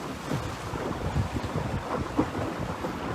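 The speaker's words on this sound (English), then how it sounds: "This is sort of a first for me to take her downwind in stiff breezes like this." Steady roar of strong wind buffeting the microphone while a sailboat runs downwind in stiff breezes, with water rushing and sloshing along the hull underneath; no voices.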